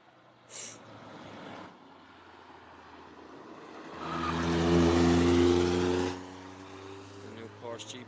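A McLaren 600LT sports car accelerates past at the Nürburgring, its engine note swelling from a distant hum to a loud, rising roar for about two seconds before dropping away, with background road noise around it.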